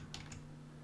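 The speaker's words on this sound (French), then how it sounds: "je tape A, href égale" Keys tapped on a computer keyboard while entering HTML code, two or three quick close keystrokes over a steady low electrical hum, no speech.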